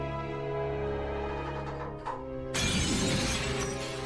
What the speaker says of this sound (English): The glass shattered, fragments gleaming as they scattered all over.